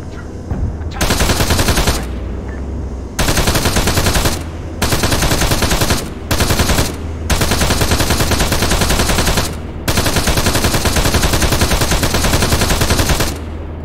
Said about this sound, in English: Machine gun it!